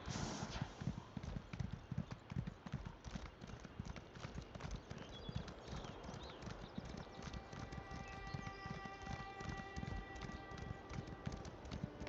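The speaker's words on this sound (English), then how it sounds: "It's just pretty to canter around out here." A horse canters in Elder Scrolls Online, its hooves giving a continuous, even, rhythmic clip-clop from start to finish, with a soft tonal background joining later.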